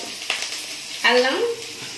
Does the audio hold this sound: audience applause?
no